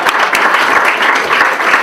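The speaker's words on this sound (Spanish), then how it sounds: "ahí también le damos un aplauso a Antonio," A crowd applauds steadily, dense clapping filling the room at a strong, even level throughout.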